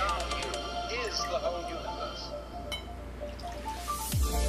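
Liquid pours and trickles into a glass with small drips and gurgles, close up, while a voice talks over it, as Halloween cocktail ingredients and champagne are measured out.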